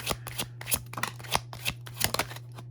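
Tarot cards being shuffled by hand during a reading, a quick run of crisp riffling flutters and soft slaps at close range, with a steady low hum running underneath.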